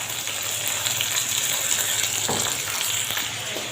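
Colored bell peppers and hot peppers fry with onions in a pan, a dense continuous hiss and crackle, loud and close, without talk.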